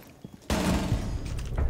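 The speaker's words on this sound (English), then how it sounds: "It's a frag." A frag grenade blast in the video game Rainbow Six Siege, a sudden loud explosion after a quiet lead-in that rolls on as a heavy, rumbling wash.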